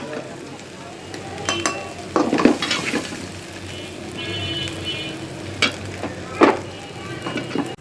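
Gentle sizzling of bitter gourd frying in a pan, punctuated by a few scrapes and clinks of a spatula stirring.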